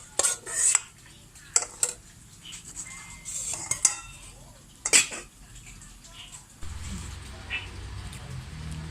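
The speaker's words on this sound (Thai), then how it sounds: "นี่เรามาผสมแป้งนะเจ้า ใส่น้ำกับน้อยนะเจ้า" Flour is mixed with water in a bowl for Thai coconut-filled khanom tian, with close clinks and scrapes of a utensil against the bowl in bursts, then softer stirring and rustling.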